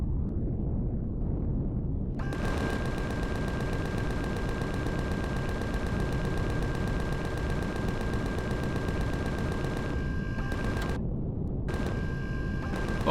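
Zirax turret defense in Empyrion Galactic Survival firing a sustained, dense burst of rapid gunfire over a low rumble, loud and close, with short gaps near the end and no talking.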